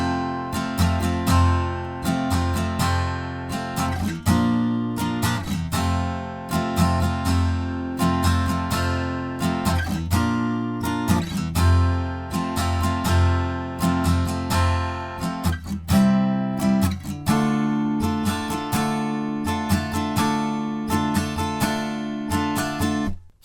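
Acoustic guitar strums the verse chords of a song, steady rhythmic downstrokes with regular accents and chord changes, close and clear, played alone for over twenty seconds.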